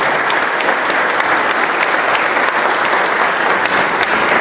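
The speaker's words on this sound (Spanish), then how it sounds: "vamos a dar un fuerte aplauso" A seated audience at a municipal book presentation in Tecámac gives dense, steady applause, loud and close throughout with no breaks.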